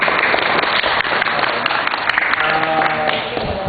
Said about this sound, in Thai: พวกเราขอเสียงปรบมือให้กับอาจารย์อีกครั้งหนึ่งนะครับ